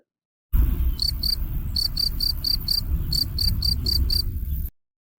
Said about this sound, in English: here's a cricket that's interesting to watch